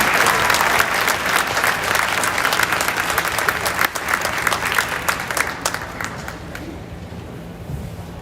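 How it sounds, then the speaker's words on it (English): A school audience claps loudly and steadily for new French Honor Society members at a 2023 induction ceremony, a dense close wash of hands that thins and fades toward the end. "Please join us in a round of applause"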